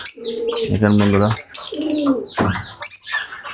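Caged yellow Fischer's lovebirds and pigeons call close by with chirps and soft coos, while a person speaks briefly over them.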